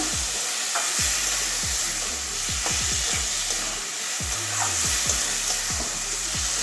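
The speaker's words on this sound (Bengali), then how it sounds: "এবারে ভালো করে কষিয়ে নেবো" Boiled potatoes being stir-fried with spices in a pan for an okra and soya chunk curry: a constant loud sizzle with repeated scraping strokes of a spatula in an irregular rhythm, close up, no talk.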